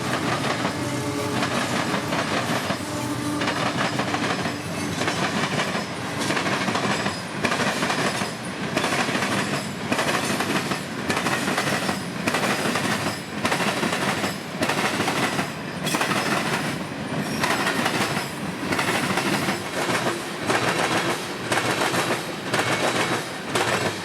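A CSX freight train hauling ethanol, led by three locomotives, rolls steadily past with loud, continuous clickety-clack of wheels over rail joints and grinding rumble, sustained throughout.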